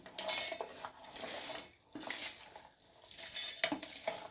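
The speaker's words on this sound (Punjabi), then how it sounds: "ਹੁਣ ਆਪਾਂ ਇਹਨੂੰ ਮਿਕਸੀ ਦੇ ਜਾਰ 'ਚ ਪਾ ਰਹੇ ਹਾਂ" Dry curry leaf chutney spooned into a mixer grinder jar, giving repeated metallic scrapes and clinks of a spoon against the jar in uneven bursts, close and fairly loud, with no talking.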